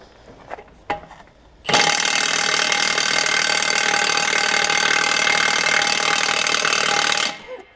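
A Milwaukee M18 cordless impact wrench runs a single loud, sustained burst of about five and a half seconds, rattling against a dual truck tire's lug bolt. A couple of short knocks come just before it.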